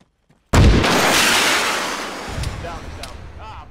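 A sudden loud explosive burst of combat fire erupts after a near-silent moment on a battlefield with paratroopers, its roar decaying over several seconds with further cracks and shouts of soldiers behind it.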